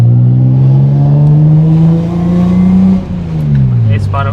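A big-turbo car, heard from inside or close by, accelerates hard with a loud rising engine drone that climbs, briefly drops at a shift, then pulls again.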